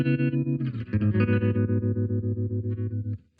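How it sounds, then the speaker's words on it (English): A clean electric guitar chord pulses rapidly on and off with a deep, choppy tremolo at full intensity and fairly high speed, the volume throbbing in a fast, even rhythm. "the intensity knob is just going to make the tremolo sound more drastic"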